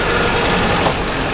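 A Mahindra Arjun Novo 605 or 575 DI tractor engine runs steadily in a field with a rotavator, a close, loud, low diesel chug throughout the short moment.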